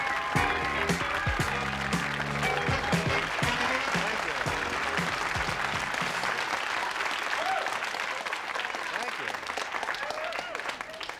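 A lively studio audience on a 1984 television talk show applauds and cheers a stand-up comedian's entrance, a dense, steady wave of clapping that runs the whole stretch, with voices mixed in over the start.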